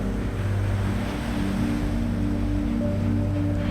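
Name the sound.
ocean waves crashing on a sandy beach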